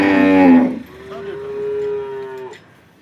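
A local Banaskantha cow gives a loud, close moo, a deep drawn-out call followed by a second lower, steadier bellow that fades out, with no talk over it.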